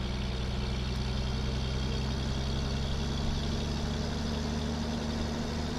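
A Mack F700 truck engine from a free game mod idles steadily with a deep, rumbling low thrum and no break, loud and constant throughout.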